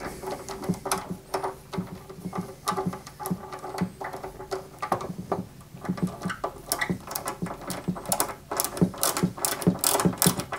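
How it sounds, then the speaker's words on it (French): Two flat-head ZM screws driven by hand into the upper wiring area of a 1/8-scale Subaru Impreza WRC 2003 model kit, a run of small, close clicking and ratcheting ticks in irregular bursts, with no talking. "on va venir y mettre deux vis ZM, cette fois-ci, en haut, au niveau du câblage"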